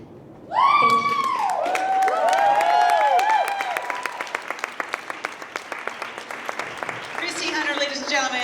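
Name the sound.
audience applause after a talk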